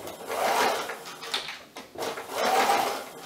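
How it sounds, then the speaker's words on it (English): A sewing machine whirs in two bursts of rapid stitching through fleece fabric with a brief pause between, close and steady, no voices. "we're going to take this to our machine"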